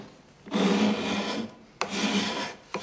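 A steel card scraper drawn across wood in long, rasping strokes, two sustained passes and the start of a third, loud and close with no voices.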